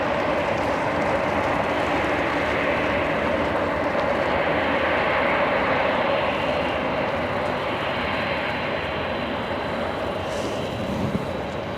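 Steady, loud jet engine roar from a Lufthansa airliner taxiing at LAX with its taxi light on, a continuous broadband rumble that holds nearly unchanged throughout, with no voices.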